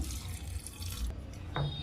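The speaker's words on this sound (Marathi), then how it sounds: "पाणी टाकून घ्यायचं आहे" Water runs from a tap into a pressure cooker holding washed moth beans for misal, a steady close pouring and splashing that fades briefly midway before a short fuller gush near the end.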